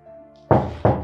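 Two firm, loud knocks on a door, close by, spaced about a third of a second apart after a brief quiet room tone.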